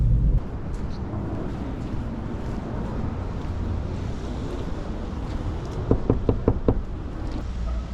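Knocks on a house door at a delivery drop-off, about five quick raps close by near the end, over steady wind-like outdoor noise with no talking.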